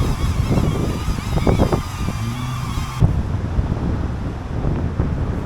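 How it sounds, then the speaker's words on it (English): Strong gusty wind of about 37 mph buffets the microphone outdoors while DJI Neo drones fly, a loud continuous rumble that swells and dips throughout. "the winds are blowing like crazy"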